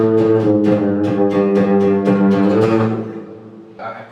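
A sustained electric guitar chord rings through an amp emulator with slightly raised gain, pulsing in a steady rhythmic tremolo before fading, with a brief extra strum at the end.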